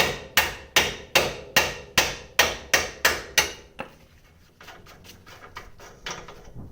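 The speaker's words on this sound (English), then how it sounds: "I'm actually going to twist this nut back on just a little bit to protect the threads while I tap this through." A hammer taps a bolt through the suspension of a 2007-2015 Ford Expedition, with a nut threaded on to protect it. About ten sharp, evenly spaced metallic strikes come up close, then fade to quiet shuffling.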